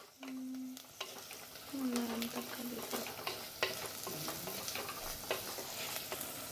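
Chopped onions sizzle in a pan for a fish kurma, with a steady close fry and repeated scraping stirs, alone with no talk.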